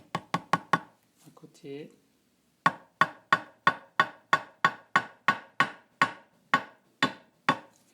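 A hammer tapping a nail to hold a silvered daguerreotype plate in place, a quick run of five sharp knocks, a brief spoken aside, then a steady series of about fifteen crisp, evenly spaced blows, close and clear.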